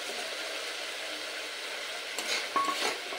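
Fried rice stir-frying in a pan with ginger-chili paste: a steady, close sizzling hiss, then a short burst of clattering stirring strokes near the end.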